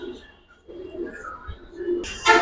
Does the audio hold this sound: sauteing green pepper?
no